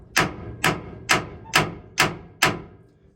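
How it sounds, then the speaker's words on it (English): Six sharp metallic hammer taps on a boat's propeller shaft ring out at an even, unhurried pace, each strike followed by a short ringing decay. "I took a hammer"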